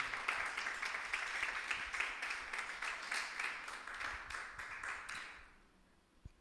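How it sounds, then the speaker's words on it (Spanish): A church congregation claps together for about five seconds, a moderately loud, even patter that stops abruptly, leaving near silence. "Un aplauso a Cristo por eso."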